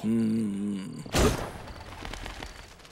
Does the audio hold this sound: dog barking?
no